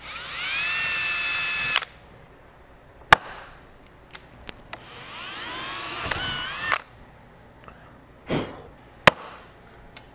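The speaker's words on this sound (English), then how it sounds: "We'll take the bracket off, and we'll go ahead and drill the hole." A power drill bores a hole in a bracket for a fifth-generation Camaro strutless drag wing, giving two long whining runs with rising pitch, broken by sharp clicks and knocks, close and loud.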